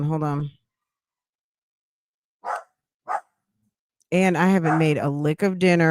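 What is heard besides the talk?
dogs barking in the background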